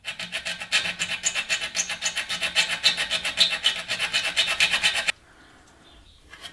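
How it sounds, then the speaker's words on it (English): A hand file rasps back and forth across the edge of a metal tube-amplifier chassis, working it down to a scribed line. The strokes are steady, close and loud for about five seconds, then stop abruptly, leaving only quiet room tone. "Just gonna have to get in there with your files and just file down to your scribed line"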